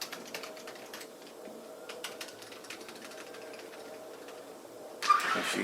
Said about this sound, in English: Make sure you can't see me typing in my password.